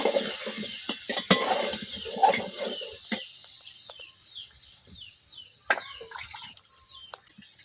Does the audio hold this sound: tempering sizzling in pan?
yes